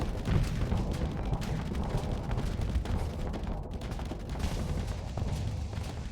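A dense barrage of video game weapons fire keeps up constant rumbling blasts and crackling shots with no pauses, moderately loud throughout.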